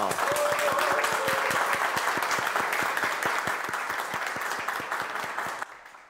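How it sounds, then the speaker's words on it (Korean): A golf lesson show's studio audience applauds steadily, dense clapping filling the space at a constant level before cutting off abruptly near the end. "박수 부탁드립니다"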